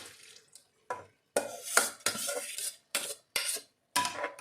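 Soaked basmati rice tipped into a pan of coconut rice base and stirred, giving a series of distinct scraping, rattling strokes of a utensil against the pan, close and fairly quiet, with brief gaps between them.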